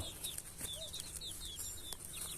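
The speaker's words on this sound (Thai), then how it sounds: "ไม่ใช่ไก่ชนนะเนี่ยไก่บ้าน" Male Thai native backyard chicken, not a fighting breed, making a series of short clucks and chirping calls close by, repeating irregularly over a steady farmyard background.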